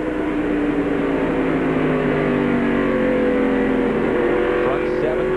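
Stock race cars circle Nazareth Speedway in a 1996 race, a steady, loud droning engine roar with whining pitch tones that shift gradually, as if riding in-car, with commentary voices underneath.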